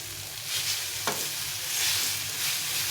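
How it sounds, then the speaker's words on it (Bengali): Leftover rotis tossed with vegetables frying in a pan, a steady sizzle with scraping stirs and one sharp utensil knock near the start, nobody speaking. "এখন আমি দিয়ে দেবো এই রুটিগুলো, দিয়ে সঙ্গে ভালো করে নেড়ে চেড়ে নেবো"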